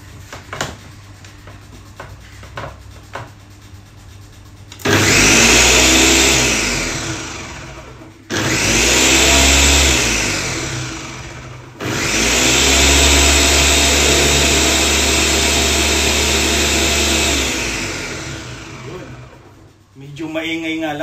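A 3-in-1 food processor whirs loudly in several long bursts, switching on and off with short gaps between runs, and winds down at the end.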